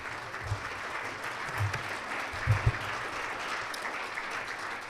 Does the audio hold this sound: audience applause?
yes